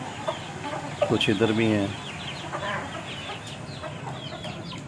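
Chickens and young chicks cluck close by, with one loud burst of rapid clucking near the start and softer clucks and peeps scattered after it, while someone speaks briefly over them.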